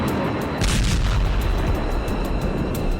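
A deep, heavy boom rolls out and lingers, low rumbling with scattered crackles, loud and continuous over a few seconds, from B-2 bomber strikes.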